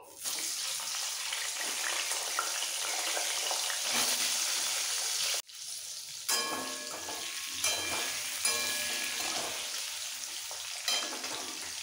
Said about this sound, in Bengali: এবার এই মাছ ভাজা তেলের মধ্যে আলুগুলো ভেজে তুলে নেব।